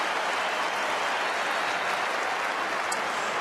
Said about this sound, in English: And the Melbourne crowd have something to cheer about.